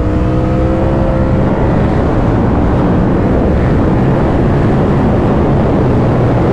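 A Yamaha R7 motorcycle at speed on a racetrack, engine drone merged with loud, constant wind roar buffeting the microphone, steady and unbroken.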